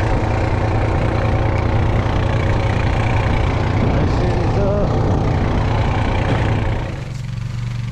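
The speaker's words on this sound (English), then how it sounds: "21 Honda Rubicon, four-wheel drive, getting ready to pull her out to the lake" A 2021 Honda Rubicon four-wheel-drive ATV engine idles with a loud, steady, close rumble that holds evenly and then drops slightly in level near the end.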